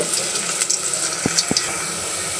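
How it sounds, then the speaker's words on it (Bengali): Onion and garlic frying in oil to make a tempering for red lentil dal, a steady close hiss and sizzle with a couple of faint clinks. "পেঁয়াজ দিয়ে রসুন দিয়ে কিন্তু আমি ভেজে নিচ্ছি।"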